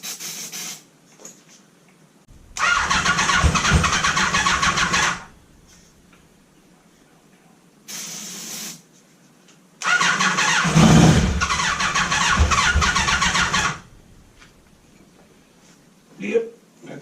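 A revived concours car's engine, just back from a fuel problem, cranks and catches in repeated loud bursts, idling and revving for a few seconds each before cutting out, with quiet gaps between.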